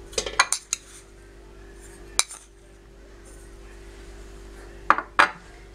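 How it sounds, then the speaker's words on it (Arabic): A spoon clinks and scrapes against a dish while stirring a lemon pickle mixture, in a few scattered bursts with quieter stirring between, close up and sparse. "واقلب الكلام ده كله كده مع بعضه"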